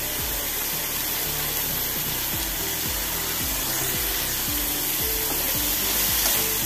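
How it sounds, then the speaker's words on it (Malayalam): Curry leaves sizzle in hot oil in a pan for a cauliflower curry, a loud continuous frying hiss with rhythmic stirring scrapes repeating under it. "ഇനി കുറച്ച് കരിവേപ്പില ചേർത്ത് കൊടുക്കാം."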